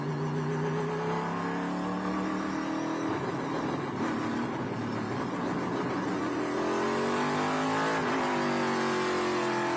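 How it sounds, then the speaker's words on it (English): Onboard engine of a Trans Am TA-class race car, the number 8, lapping the track at Canadian Tire Motorsport Park: a loud, continuous engine drone that dips and climbs as the driver lifts off and reaccelerates. "Watching on board now from the 8 car of Tommy Teresi, third place runner in TA"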